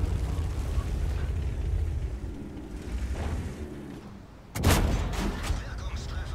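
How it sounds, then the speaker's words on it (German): Artillery shelling a tank in World of Tanks, with a steady engine rumble and then a sudden heavy boom and crash of impact, loud and close. "Die Arti fängt auch schon an, auf den zu schießen."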